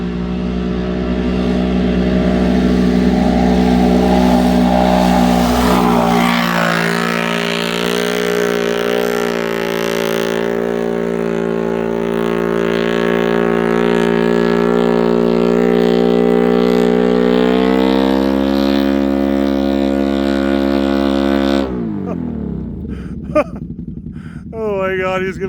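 A Can-Am Outlander Gen 3 ATV on stock clutching with big tires rips through muskeg, its engine droning loud and close and climbing in pitch under strain before it cuts out near the end, with voices talking over it.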